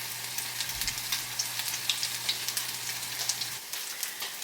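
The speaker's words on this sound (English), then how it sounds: "And then just let them fry so that they get that crust." Spicy salmon burgers fry in a pan, giving a steady, close crackling sizzle that runs unbroken throughout with no voices.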